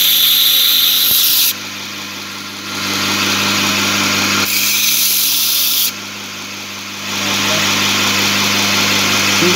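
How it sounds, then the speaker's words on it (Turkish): A motorized sander grinds a metal mold-carving punch with a steady whine, its pitch and loudness dropping twice as pressure on the workpiece changes, under a constant machine hum. "Şimdi düzeltmelerin tamamını burada yapıyoruz zımparada."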